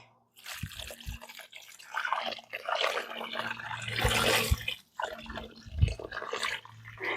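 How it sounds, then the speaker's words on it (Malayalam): Water pours and splashes into a fig plant's air-pruning pot in uneven bursts for several seconds, with a few louder drips and a low background hum. "അപ്പം നമുക്ക് വെള്ളം ഒഴിച്ചു കൊടുക്കാം കേട്ടോ"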